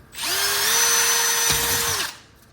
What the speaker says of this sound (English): We'll deburr all sides of it.